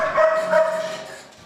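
Dogs at an animal shelter: a short, close bark or yelp with a drawn-out, whining tail, fading quickly.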